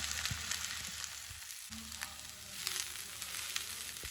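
Chopped onion and purple cabbage sauté in a hot pan for a creamy pasta, giving a steady close sizzle with occasional stirring scrapes and no talking.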